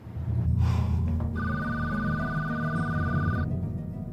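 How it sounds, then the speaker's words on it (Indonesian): Telephone ringing indoors with a steady electronic trill lasting about two seconds, heard over a low background drone of music. "Siapa yang telepon pagi-pagi begini?"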